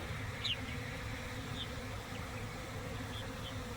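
Honey bees hum steadily as a swarm outdoors, a soft continuous drone with a few individual insects buzzing closer past the listener, no voices.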